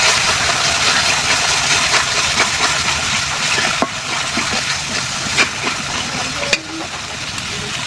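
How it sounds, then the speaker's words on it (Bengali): An electric grinder blends cashew nuts and peanuts together with a loud, continuous motor drone and a gritty whir that holds steady for about eight seconds, broken by a couple of brief knocks. "কাজু বাদাম আর চীনা বাদামে একসাথে আমি বাইটা নিচ্ছি"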